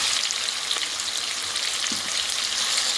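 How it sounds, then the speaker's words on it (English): Ackee and saltfish sauté in a hot pan, giving a steady close sizzle with a couple of faint stirring scrapes and no voices. "Mix it up, let it saute."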